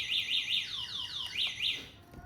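An electric scooter's motion-triggered security alarm chirps in rapid repeating up-and-down sweeps, fairly loud and close, cycling through warbling patterns before cutting off.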